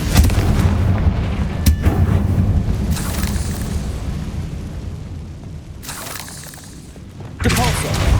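The Confringo fire spell explodes in Hogwarts Legacy with loud, booming blasts and crackling bursts, heavy rumbling impacts that surge and fade and then strike again near the end.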